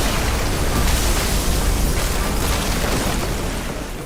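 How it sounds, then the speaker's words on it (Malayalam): A mall being bombed: a loud, sustained blast with a deep rumbling roar that holds for several seconds, then tails off toward the end. "ആ മാള് ബോംബിട്ട് പൊട്ടിക്കാൻ നിൽക്കുകയാവും"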